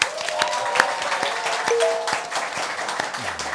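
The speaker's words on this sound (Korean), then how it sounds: "여러분의 힘찬 박수와 함께 시작하겠습니다." A studio audience claps briskly at the opening of a Korean current-affairs talk show, with distinct individual claps and faint tonal sounds mixed in.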